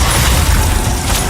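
A Bombarda blast spell in Hogwarts Legacy on PS4 Pro sounds as a loud, dense, rumbling crash with a mechanical, clattering texture over about a second.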